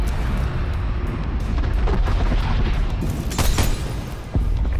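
A missile strike in the video game Call of Duty Cold War rumbles as a dense, sustained, roaring boom, with a sharper crack near the end.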